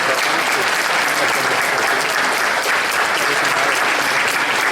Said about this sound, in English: we can give them one round of applause